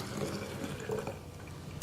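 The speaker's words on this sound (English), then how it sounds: "I'm going to pour it into these jars" Homemade coconut milk is poured into glass jars, a steady liquid gush and gurgle filling the container up close, continuous and fairly loud with no talking.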